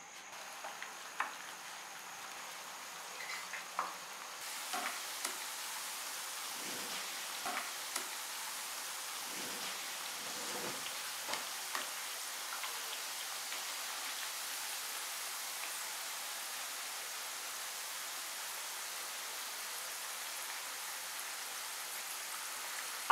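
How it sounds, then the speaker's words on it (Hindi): Potato slices softening in hot oil for a stuffed potato ball casserole: a steady, soft sizzling hiss runs throughout, with a few faint pops and clicks near the start. "अब इनको ऑयल में इतनी देर फ्राई करेंगे कि ये नरम हो जाएं"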